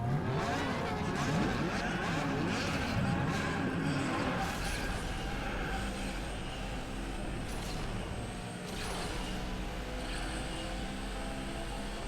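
Morgan Aero GT racing in Asphalt 8 on a track, engine whine revving and shifting with skids and whooshes, game sound loud throughout with a voice talking over it at times.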